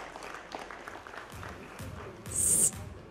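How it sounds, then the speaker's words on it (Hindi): Audience at a corporate award night claps in a thin, scattered burst, fairly faint and distant, with a brief shrill whistle-like tone and a swell of louder noise near the end. "एक बार जोरदार तालियां चाहिए दोनों के लिए"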